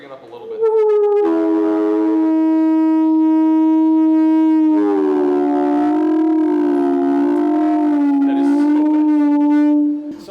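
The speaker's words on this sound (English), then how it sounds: "these tubes are not quite the same length, and if we get them at different lengths, we can actually generate beat frequencies" Heated tubes of slightly different lengths sing with a loud, steady siren-like tone. The pitch shifts partway through and wavers into a throbbing beat as two nearby pitches combine.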